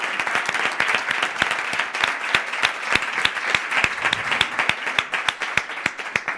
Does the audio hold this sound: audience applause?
yes